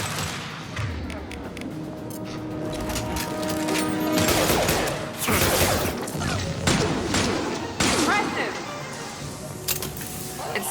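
Sustained gunfire and heavy impacts crackle through a Mass Effect 2 firefight, dense and loud with sharp thuds scattered across it, while voices call out over the combat.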